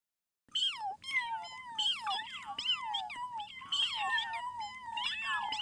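A dog howls and whines in long, wavering, rising and falling cries, repeated continuously and close by after a brief silence at the start.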